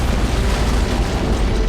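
Antimatter charge explosion in a Halo: Combat Evolved cutscene, a loud, sustained deep rumbling boom that fills the whole stretch with dense low roar and no talk.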